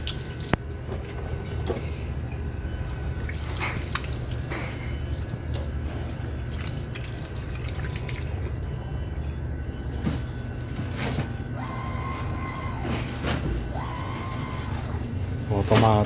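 Tap water runs steadily into a sink as hands are washed in a restaurant washroom, a continuous broadband splashing with occasional drips and clinks, and voices talk over it.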